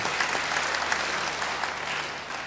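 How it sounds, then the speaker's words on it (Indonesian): A church congregation claps in dense, steady applause, a close, loud burst of many hands that carries through the whole moment. "Beri tepuk tangan yang baik buat Dia."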